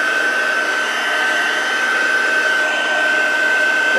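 Heat tool blowing a steady, loud stream of hot air across the back of a watercolor card to dry it and reduce warping, with a constant whine and no pauses.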